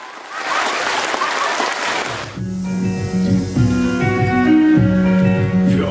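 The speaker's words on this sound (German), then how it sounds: "Tosender Applaus der Sternsinger nach dem Film" Children at a film premiere burst into loud applause for about two seconds, then the clapping gives way abruptly to sustained tonal music with steady chords for the rest of the clip.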